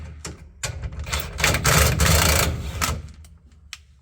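A truck engine revs up after a center support bearing replacement, a close rattling mechanical roar that swells over about two seconds and falls back, with clicks before and after.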